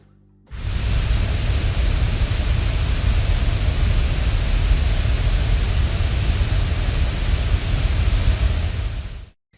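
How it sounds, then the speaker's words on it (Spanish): A full multitrack music mix playing all at once, fused into a dense, even wash resembling pink noise, steady and loud from start to finish with an abrupt onset and cutoff. "oímos un sonido muy parecido a un ruido rosa, con una sensación de unidad con el volumen general"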